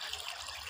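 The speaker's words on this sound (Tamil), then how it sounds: "அந்த மீன் முங்குற அளவுக்கு தண்ணி ஊற்றணும்" Water pours into a fish pot on a village stove while vaala meen puttu is being cooked, heard as a brief, faint, steady gushing hiss with no voices.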